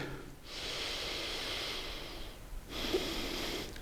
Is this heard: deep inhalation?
yes